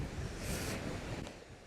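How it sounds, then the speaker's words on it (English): Strong wind buffets the microphone at a beach campsite on the Portuguese coast, a steady low roar with gusts swelling midway and surf noise blended in, with no talking. "Oh, you can probably hear that wind."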